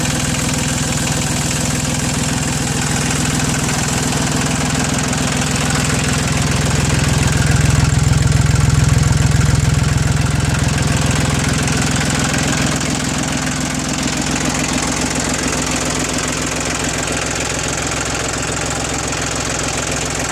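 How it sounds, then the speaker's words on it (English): An Iseki TU1700 compact tractor engine idles steadily and close by with a knocking diesel rumble, swelling briefly louder midway before settling back to an even idle, with no talking. "They call it a compact tractor, but listen to that engine."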